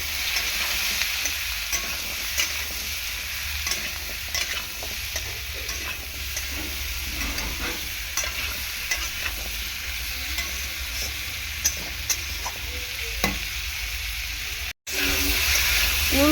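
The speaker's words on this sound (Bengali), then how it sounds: "নুন হলুদ দিয়ে ভালো করে সবজিটাকে এরকম তেলের মধ্যে নাড়াচাড়া করে নেব।" Vegetables with salt and turmeric stirred in hot oil for a Bengali fish curry with half a papaya, giving a steady close sizzle and frying hiss with scraping spoon strokes throughout and a brief dropout near the end.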